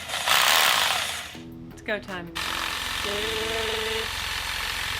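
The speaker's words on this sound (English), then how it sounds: "We can't get a hammer to the top of them, so we have to use a sawzall." A reciprocating sawzall cuts through body mounts on an early Ford Bronco during a body lift, a loud continuous buzzing rasp that briefly breaks off while someone speaks, then resumes steadily to the end.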